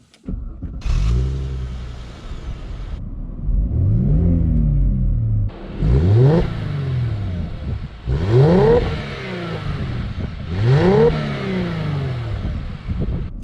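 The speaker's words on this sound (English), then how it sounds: "let's get a little exhaust note right now" A Mercedes-Benz C300 W204 sedan is revved in a series of about five rising blips. Each one climbs sharply and then falls back to a low idle rumble. The exhaust note is close and clear, with no talking.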